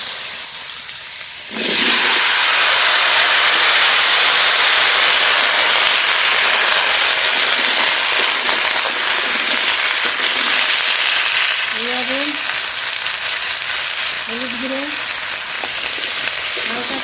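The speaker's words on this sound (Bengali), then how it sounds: "এই মাছ ভাজা তেলের ভেতরেই কেটে কেটে রাখা কেটে ধুয়ে রাখা ওলকপি আলু দিয়ে দেবো" Cut kohlrabi and potatoes hit hot oil, left from frying fish, with a sudden loud hiss that settles into a steady, intense sizzle, with a few faint chirping tones near the end.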